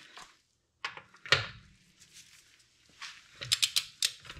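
Torque wrench ratcheting while tightening lug nuts on a 2022 Honda Ridgeline wheel after a tire plug repair: close metallic clicking bursts separated by short pauses, ending in a quick run of sharp ratchet clicks.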